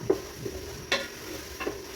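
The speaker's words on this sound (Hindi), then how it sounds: "वो सारा मसाला डालने के बाद हमने करनी है इन दोनों की भुनाई।" Masala paste with garlic and ginger fries in oil, giving a quiet steady sizzle broken by a few short scrapes of stirring, with no talk.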